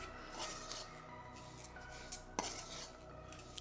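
A spoon stirs and rubs a beetroot mixture around a metal pan, making steady scraping and clinking close up, with one sharper clank partway through.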